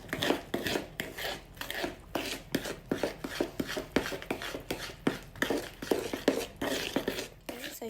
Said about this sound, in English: make sure I'm beating up my eggs as well, make sure I get all the clumps